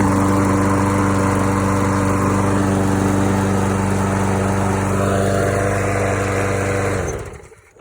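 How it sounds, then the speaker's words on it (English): A Troy-Bilt push lawn mower engine runs at a steady, loud, even idle close by for about seven seconds, then cuts off and winds down to silence, with no voices. "So let's give it a start. It runs really good."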